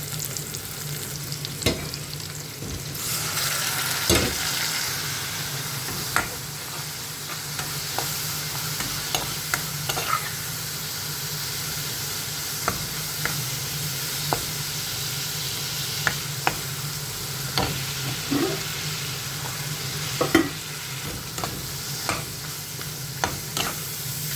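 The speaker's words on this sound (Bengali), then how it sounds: "আলু কষানো হয়ে গেছে।" Potatoes frying with salt, coriander, turmeric and chili in a pan, a low steady sizzle punctuated by frequent sharp scrapes and taps of stirring, close-up with no voices.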